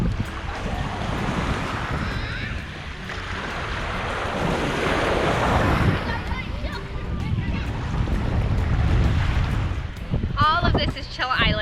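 Ocean surf rolls in steadily on the beach at Coco Cay, Royal Caribbean's private island, with gusting wind buffeting the microphone in a continuous broadband wash that swells and eases throughout.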